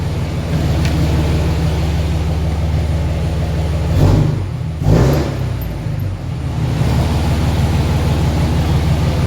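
A 5.9 diesel truck engine idles steadily after a VGT turbo swap, a loud continuous low rumble with brief dips and surges midway, no talk over it.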